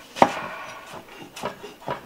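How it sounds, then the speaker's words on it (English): A cleaver chops a small onion on a board in a home kitchen, giving three separate knocks with one sharp, loud first strike and two softer ones after it, each followed by a short pause. "When you're using the cleaver, always point the tip down and go in a forward motion like this."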